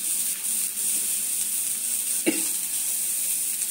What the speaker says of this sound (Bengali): এটা ভাজা ভাজা হয়ে গেছে পেঁয়াজটা।